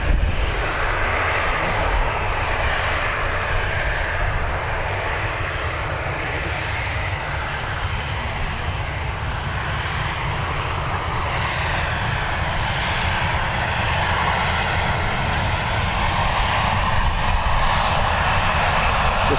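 Airliner jet engines roar steadily and loudly as an Airbus A330 departs Dublin Airport, a broad continuous rumble with no talk over it.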